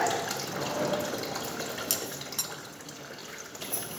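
Tap water running while lab glassware such as a measuring cylinder, polythene bottle and thermometer is rinsed, a soft steady splashing flow with a few brief clinks and splashes toward the end.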